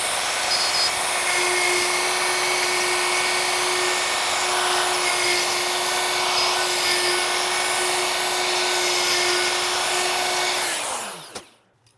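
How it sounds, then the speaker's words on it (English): A router cuts a truss rod channel into a guitar neck, a loud, steady high-pitched whine with a constant tone that holds for about eleven seconds, then spins down and stops abruptly. "Now we are ready to route."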